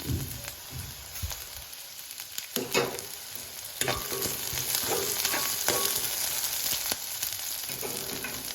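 Curry leaves and green chillies dropped into frying onions for a Jaffna-style beef curry, a steady close sizzle that swells louder midway, with spatula scrapes and stirring clatter throughout and no talking.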